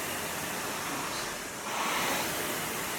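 A rowing ergometer flywheel spins continuously as a steady broadband whoosh, rising and getting louder partway through as the stroke drives it faster, with no talking.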